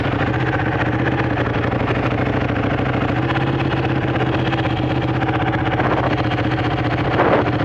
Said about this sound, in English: This thing is loud as Christmas. And it kicks up a big old load of oil when it starts.